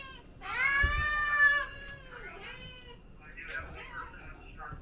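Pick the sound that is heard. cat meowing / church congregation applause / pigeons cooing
cat meowing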